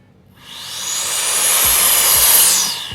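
ULANZI electric air duster, a 100,000 RPM blower, spinning up to a loud, steady high-pitched whoosh that holds for about two seconds before easing off, with no talk.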